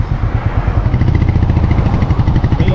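Royal Enfield motorcycle riding slowly in third gear, its engine thumping in a steady, rapid low pulse, loud and close throughout.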